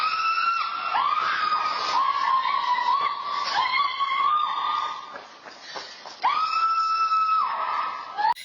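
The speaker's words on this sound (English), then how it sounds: "And then you hear her screaming a blood-curdling scream." A terrified woman's long, blood-curdling screams on a recorded phone call, loud and sustained with a brief break before a final piercing cry, heard alone without other talk.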